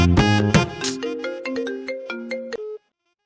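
A mobile phone rings with an incoming call, a melodic ringtone of bright stepped tones that plays clearly for under three seconds and then cuts off into silence.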